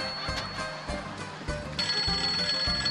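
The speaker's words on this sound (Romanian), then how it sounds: "Ce, iar telefonul?" A telephone rings continuously with a steady electronic tone, repeating pulses under background noise, fairly loud and without speech.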